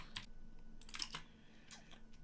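Keys tapped on a computer keyboard while entering a chat message, a few quiet, close clicks in short bursts separated by pauses.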